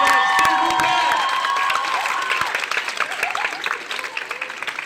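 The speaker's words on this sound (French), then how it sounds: "encore un tonnerre d'applaudissements" An audience in a hall applauds students after a slam poetry performance, dense clapping with a few cheers that gradually thins into scattered, separate claps.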